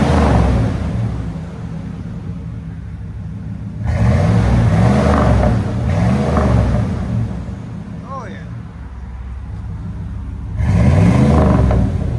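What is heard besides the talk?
1997 GMC Sierra 5.7L V8 revving with Flowmaster Super 10 exhaust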